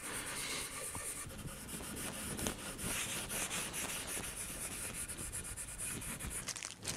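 Cloth rubbing oil into the wooden body of a CNC-built guitar, a steady close-up scrubbing hiss with rhythmic rubbing strokes that continue without pause and with no talk.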